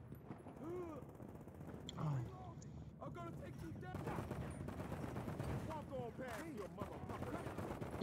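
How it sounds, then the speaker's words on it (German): Rapid bursts of gunfire in GTA V crackle continuously under constant excited talking, with occasional louder booms. "Jetzt wird geballert hier."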